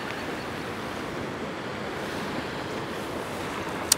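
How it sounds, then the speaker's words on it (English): Ocean surf breaking along the Bauline East coast, a steady, continuous wash of waves with some wind noise, no voices and one brief knock near the end. "enjoying the sounds of the ocean"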